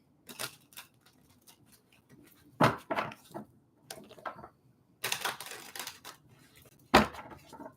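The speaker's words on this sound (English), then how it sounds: "I'm going to do 2 more shuffles." Playing cards shuffled by hand during a live psychic reading: several close, crisp riffling bursts separated by short quiet gaps, with no voices.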